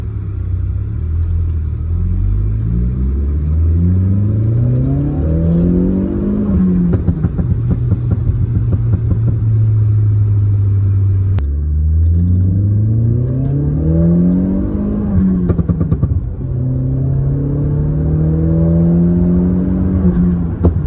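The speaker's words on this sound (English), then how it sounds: "That's one of the most beautiful exhaust notes I've ever heard." A Stage 2 tuned Skoda vRS exhaust drones steadily while driving, rising and falling through gear changes, loud and close with a deep rumbling tone.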